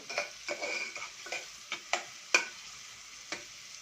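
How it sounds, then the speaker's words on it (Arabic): Onion sautéing in a little oil in a pot, a soft steady sizzle broken by repeated stirring scrapes and light clinks at an even rhythm, close and fairly quiet, with no talking. "جبت حله فيها شويه زيت، ونزلت عليها ببصلايه كده متوسطه"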